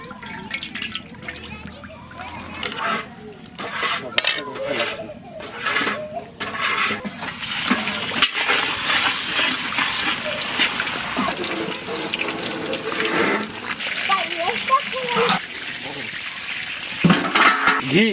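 Sunflower oil frying in a pan while chilli chicken and fried rice are cooked: a continuous crackling, watery sizzle close by that swells and eases, with a voice speaking in the background.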